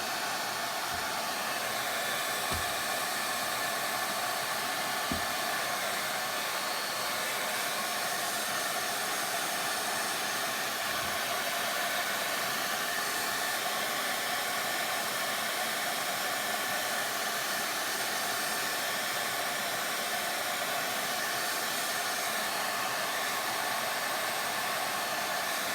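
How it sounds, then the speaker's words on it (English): Handheld blow dryer running steadily for the whole stretch during a craft paint inlay project, a loud, constant airy roar up close with a few faint knocks and no talk. "I'm gonna hit it with my blow dryer."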